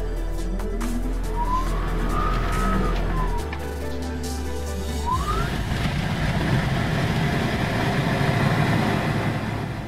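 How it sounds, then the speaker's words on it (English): A Pipistrel Alpha Electro electric aircraft starts up nearby: a low hum gives way to rising whine sweeps and a steady broadband rush as the motor spins up, with no talking. "Here's how it sounds starting up."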